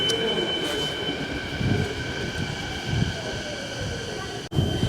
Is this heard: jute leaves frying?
no